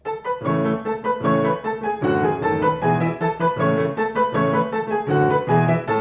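Piano playing Mozart's Turkish March, a lively, rhythmic passage of repeated octave chords and runs, loud and close, with no voices.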